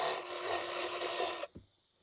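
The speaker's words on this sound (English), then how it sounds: "Now we drill one more hole." A drill bores a hole during installation of a Tekonsha P3 trailer brake controller, giving a steady, close grinding whir for about a second and a half before stopping abruptly, followed by a faint knock.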